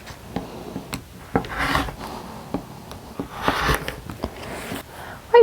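A finished quilt block of fat-quarter fabric is trimmed with a rotary cutter, giving a series of close, short rubbing and scraping strokes with light taps and rustles in between, no talking.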